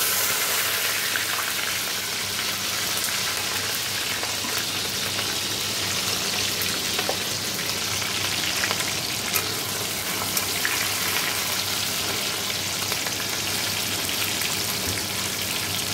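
Vegetable curry frying in oil in a wok with dried red chillies and five-spice tempering, a dense, continuous crackling sizzle held steady and close throughout.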